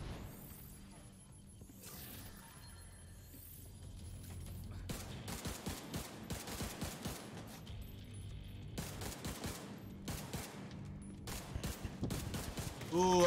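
Single-shot DMR rifle fire in The Division 2 on PS4: a long run of sharp, repeated shots over steady background game noise, with a player talking over parts of it.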